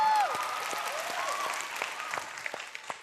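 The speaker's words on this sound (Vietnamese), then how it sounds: "Tuyệt vời, một tràng pháo tay cho Phạm Hồng Minh" A TV talent show studio audience applauds a contestant's fire trick, dense clapping that gradually thins to scattered claps, with a brief vocal tone at the start.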